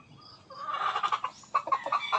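Farm chickens cluck and murmur close by in a quick, uneven series of short calls, moderately loud, with no talk over them.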